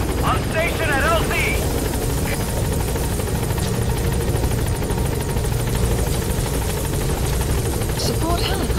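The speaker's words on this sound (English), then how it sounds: "Support helicopter has arrived." Support helicopter arriving at a landing zone in Metal Gear Solid V: The Phantom Pain, a steady rotor drone throughout, under radio chatter and game speech.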